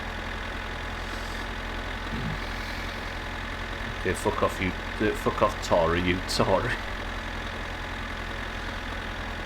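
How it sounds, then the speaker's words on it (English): A tractor engine idles in the video game My Summer Car, a steady low mechanical drone running continuously, with someone speaking over it partway through. "That guy heard the tractor"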